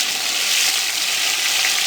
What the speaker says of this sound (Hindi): अब इनको हम 3 से 4 मिनट के लिए अच्छे तरीके से भून लेंगे